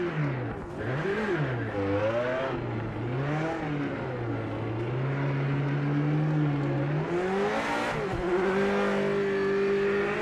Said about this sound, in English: Oh, the sound of this car is crazy.